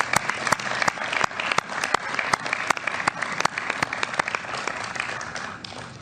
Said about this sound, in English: we should clap for the families